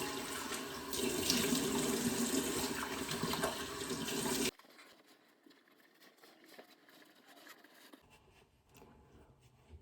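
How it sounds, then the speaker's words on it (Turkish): A tap runs at full flow into a sink during face washing, a loud steady gush for several seconds before it stops abruptly, leaving faint splashes and drips. "Şimdi yüzümü bir yıkayayım."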